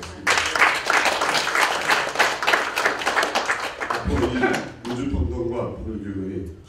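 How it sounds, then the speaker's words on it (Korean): An audience at a unification policy briefing in Los Angeles bursts into dense, steady applause for about four seconds, then it drops away as a person begins speaking over faint lingering claps. "다시 한번 오늘 이렇게 오신 분들에게 박수 한번 부탁드리겠습니다."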